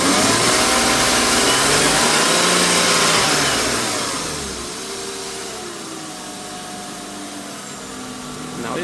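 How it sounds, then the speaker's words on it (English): A BMW E36 328i's power steering pump whines over its running engine, the loud mechanical drone and shifting tone easing and dropping in level midway before steadying at a quieter hum. "I still can't figure out why my power steering pump is making this noise"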